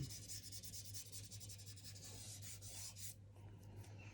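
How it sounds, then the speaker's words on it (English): Soft pastel rubbed across paper to blend colours, a quiet, steady, close scratchy rubbing in a continuous stroking rhythm, with no speech. "Completely blend them together. So one colour just smooths gently into another one."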